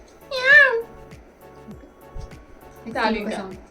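A person imitates a cat's meow twice, two drawn-out wavering mews separated by a pause with faint background knocks.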